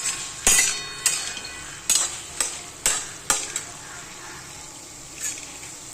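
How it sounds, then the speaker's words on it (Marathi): Masala for chicken curry roasts in oil in a pan, with a low sizzle under about eight sharp spatula scrapes and clinks spaced unevenly across the stretch. "आता याला पण तेल सुटेपर्यंत भाजत आलेलं आहे"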